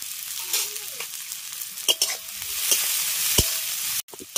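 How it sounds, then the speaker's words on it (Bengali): Sliced onions frying in a pan with a little salt, a soft steady sizzle with intermittent stirring clinks and scrapes, close and fairly quiet, ending with a sharp knock. "পেঁয়াজটা ভেজে নিয়েছি।"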